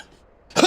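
A single short cough bursts out near the end after a stretch of near silence, close and fairly loud, with no talking.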